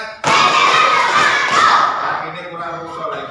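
A school class doing a rhythmic spirit clap together, a sudden loud burst of many hands clapping in unison with a crowd-like wash that slowly fades over a few seconds.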